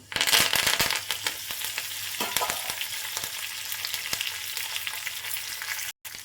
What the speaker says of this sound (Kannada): ಸಾಸಿವೆ ಚಿಟಪಟ ಅನ್ನೋ ಟೈಮಿಗೆ ನಾವು ಸ್ವಲ್ಪ ಒಣಮೆಣಸಿನ್ಕಾಯಿ, ಕರಿಬೇವಿನ ಸೊಪ್ಪು